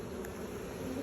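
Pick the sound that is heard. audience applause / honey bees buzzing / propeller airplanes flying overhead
honey bees buzzing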